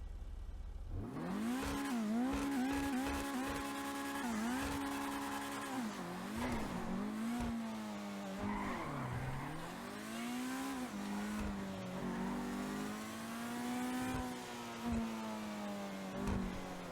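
A Hijak Ruston sports car engine in GTA Online revs continuously, pitch rising and falling through gear shifts, loud and close with no talking.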